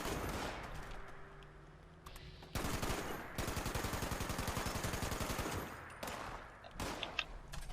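A rooftop turret in a video game fires a rapid, sustained burst of automatic gunfire, loud and steady for several seconds, with shorter bursts before and after.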